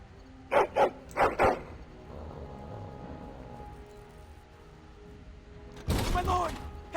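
A dog barks in the fantasy role-playing game Dragon Age: Origins, four sharp barks in two quick pairs, loud and close, followed by low ambient sound and then a burst of voices.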